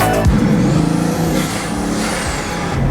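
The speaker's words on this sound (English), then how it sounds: "Another one of my favorite things in this car is just the noise." A Bugatti Veyron's quad-turbo engine accelerates close by, a loud rising mechanical roar with a high whine that climbs and then falls away.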